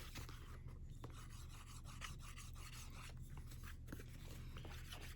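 The edges of a leather notebook being burnished, giving a continuous rough rubbing and rasping sound, close and steady for several seconds over a low background hum.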